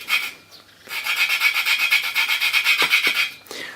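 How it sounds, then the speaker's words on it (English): A hand valve grinding tool rubs a valve against its seat on a Briggs and Stratton 7 hp engine, a rapid rhythmic rasping scrub that is steady and close, with a brief pause near the start. "You press down on it, on the valve, and then you rub it like this."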